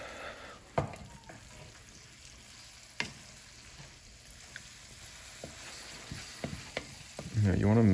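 Cooked pasta being stirred quickly into sizzling pesto sauce in a hot pan gives a steady, soft frying hiss with occasional clanks and scrapes of the utensil, growing louder at the end.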